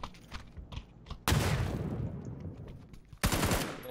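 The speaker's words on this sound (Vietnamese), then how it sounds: "Ném bom ấy nhở. Bom nó nổ quá." Grenade blasts in a shooter video game: two sharp, loud explosions about two seconds apart, each leaving a roaring, decaying tail, with faint clicks and pops before the first.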